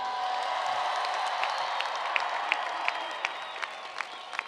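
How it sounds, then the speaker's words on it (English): At a university commencement ceremony, a large crowd gives steady applause and cheering. A few sharper claps and whoops stand out over the dense clapping. "Come on, let's give some cheer."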